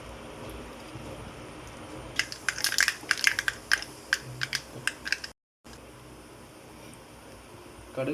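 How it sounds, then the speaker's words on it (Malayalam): Mustard seeds pop and crackle in hot coconut oil in a pan, a cluster of sharp, rapid snaps building then thinning out, with a brief cut to silence before low sizzling returns. "കടുക് പൊട്ടി വന്നിട്ടുണ്ട്"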